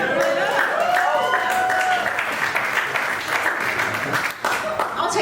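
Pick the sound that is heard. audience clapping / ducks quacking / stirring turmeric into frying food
audience clapping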